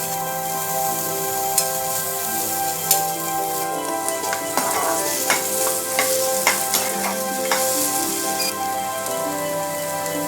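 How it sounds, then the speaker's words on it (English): Onions sizzle and crackle steadily in a hot pan, a continuous close frying hiss with occasional sharper pops. "Our sliced onions have been frying for some 5 minutes."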